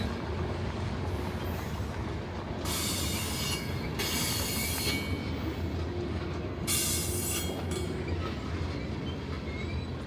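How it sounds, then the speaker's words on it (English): Freight train cars loaded with coal roll past at close range, a steady low rumble of wheels with repeated bursts of high metallic wheel squeal, no talking. "Trains are usually not this quiet,"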